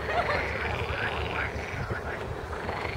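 Dense chorus of frogs croaking continuously at a springtime mating gathering in a pond near Pärnu, Estonia, many overlapping calls forming a steady, fairly loud wall of sound with no talk.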